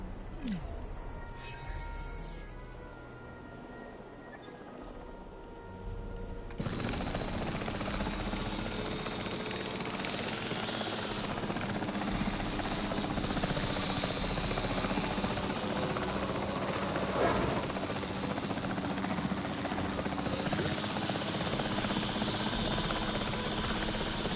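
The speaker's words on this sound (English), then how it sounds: "where's that chopper at? Let's go ahead and bring this one in." Helicopter flying in to land in the video game Jurassic World Evolution 3, its rotor thrum starting faint and then jumping to a loud, steady whirring drone that holds for the rest of the span.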